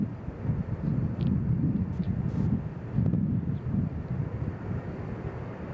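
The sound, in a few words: WestJet airliner departing Nashville airport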